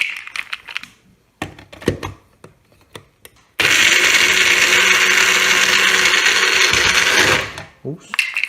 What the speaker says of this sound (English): I don't want to run the blades for too long because it'll heat everything up